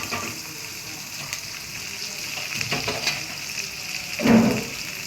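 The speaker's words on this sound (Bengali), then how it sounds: "আদা রসুন আর পেঁয়াজ জিরা বাটা সব কিছু পেঁয়াজের সাথে তেলে ভেজে নিতেছে" Ginger, garlic, onion and cumin paste sizzling with onions in hot oil, a steady close frying hiss with a brief louder surge of sizzle near the end.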